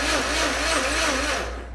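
A blender blending spinach in a home kitchen runs with a loud, steady whir and a slightly wavering motor pitch, heard alone for just under two seconds.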